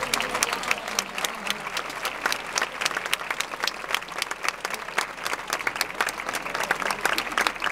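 A crowd at a grape-harvest festival in Jerez de la Frontera applauding steadily, dense clapping sustained the whole time at moderate distance, with faint crowd murmur underneath.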